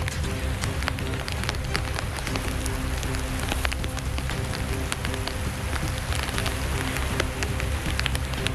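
Steady outdoor rain falls, a dense continuous hiss of drops pattering on surfaces, loud and unbroken with no talking.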